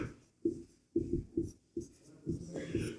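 Pen writing a math solution by hand on paper, a series of rhythmic scratchy strokes in short bursts, close and clear with no talking.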